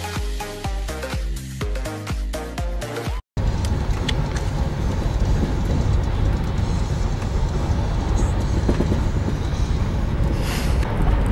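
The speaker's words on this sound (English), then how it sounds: "We're on the train now" Interior rumble of a moving passenger train carriage, a steady low roar and rattle with occasional faint clicks, preceded by a few seconds of tonal music that cuts off abruptly before the constant ride noise takes over.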